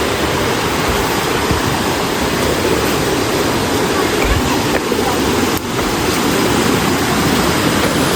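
Steady broadband roar of a waterfall in the bamboo forests of the Western Ghats near Sakleshpur, a constant close wash of falling water with no break.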